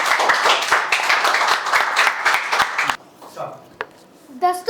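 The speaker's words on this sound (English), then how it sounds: "Clap for Anuj," Classroom audience bursts into loud, brisk clapping for a student speaker called up at a class coordinator election, lasting a few seconds before stopping abruptly, followed by faint scattered sounds.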